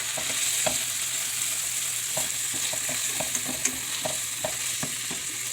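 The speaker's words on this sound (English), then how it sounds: "I'm going to add that garlic in and give that a nice stir." Chopped garlic stirred through hot fat in a soup pot, a steady sizzle under a series of spoon scrapes and soft taps spaced unevenly, close and clear with no talking.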